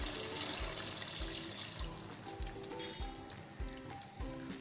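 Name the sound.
water being poured into pot of mutton korma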